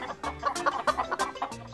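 Chickens cluck in a rapid, busy chatter on a farm in a children's cooking show, close and fairly loud, with light music underneath.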